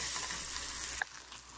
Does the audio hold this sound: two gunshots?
no